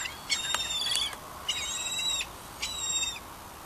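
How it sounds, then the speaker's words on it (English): Shrill gull calls come in three bursts of sharp, squealing cries over a quiet background, fairly close and clear. "Very noisy gulls, in fact."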